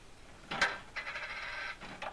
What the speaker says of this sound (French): Katcha c'est le bruit de la molette qu'on tourne